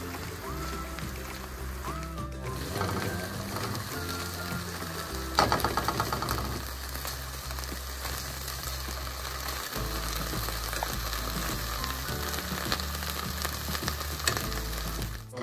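Spam fries coated in Aloha Shoyu crisp in a hot pan with a steady, close sizzle running throughout, rising briefly as they are flipped, over a faint constant low hum.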